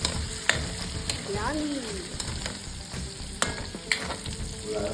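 Onion and garlic sizzling in a pan while being stirred, with a steady fry hiss and sharp utensil clacks against the pan; a voice briefly speaks over it.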